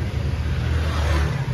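A used second-hand car's engine runs steadily at close range at a used-car dealership in Kolkata, a continuous low rumble with no talk over it.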